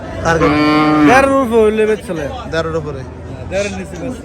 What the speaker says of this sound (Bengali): চন্ডীপুরা গরুবাজার থেকে কিছু গরু দেখায়